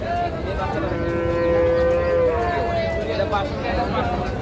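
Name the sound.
cow mooing at a cattle market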